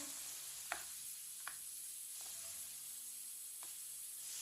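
Chicken kulfi kebabs fry in oil in a pan with a faint, steady sizzle and hiss, broken by a few soft clicks.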